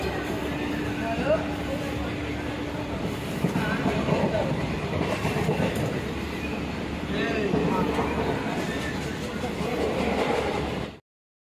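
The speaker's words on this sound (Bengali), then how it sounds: "এই যে ট্রেনে উঠেছি, যেহেতু অনেকটা রাত, যার কারণে ট্রেনটা অনেক হালকা ছিল" A train rolls along at night, a steady broadband rumble and rattle running throughout with a faint sustained tone early on, ending abruptly.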